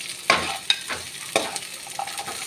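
Garlic and onion fry in hot oil in a kadai for bread chilli, giving a steady sizzle broken by several sharp scraping stir strokes of a spatula against the pan.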